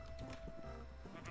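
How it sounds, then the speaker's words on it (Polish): Sheep bleating in a video game, a short sequence of nasal bleats heard close up over a steady low background hum. "Owce, owce, dobra."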